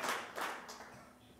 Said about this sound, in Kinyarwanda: Reka dukomere amatangazo amashyi